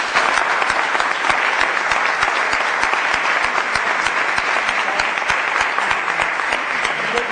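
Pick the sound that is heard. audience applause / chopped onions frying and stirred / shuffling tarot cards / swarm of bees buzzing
audience applause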